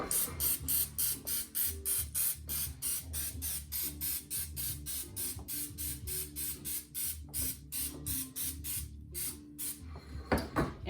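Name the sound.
cooking spray on cupcake tin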